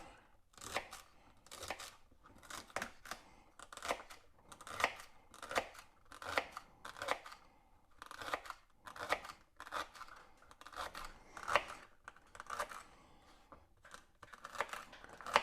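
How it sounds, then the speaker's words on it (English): A knife chops through two stalks of celery on a board, a steady series of crisp, crunchy cuts in rhythmic bursts, close and fairly quiet, with no talking. "I got 2 stalks of celery that we're going to use. We're just going to cut them up."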